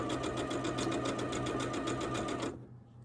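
A sewing machine fitted with a quarter-inch foot stitches a quilt block, running at a steady fast whir with a rhythmic needle chatter for about two and a half seconds before abruptly stopping.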